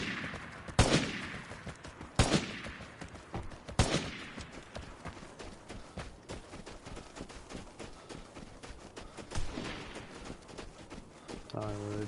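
Pump-action Magnum shotgun blasts ring out in the survival video game Vigor, three loud booms about a second and a half apart followed by a later shot, with gameplay noise and someone talking throughout.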